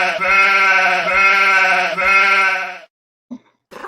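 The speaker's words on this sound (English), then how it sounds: "We got the sheep all aroused now." Sheep bleating, played back as a recorded sample: three long, loud, wavering bleats run back to back, then a couple of faint short fragments after a pause.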